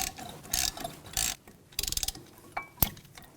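Short ratcheting clicks and metallic turns from a 7mm hex tool working the caliper slide pins on the front brakes of a 2000-2006 BMW X5, quiet and close with brief pauses between bursts.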